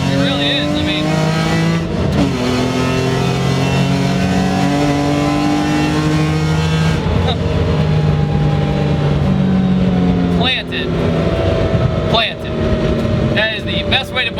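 A BMW E46 M3 engine drones loudly and steadily at speed on a race track, rising and falling in pitch as it accelerates and shifts, with talk heard over it.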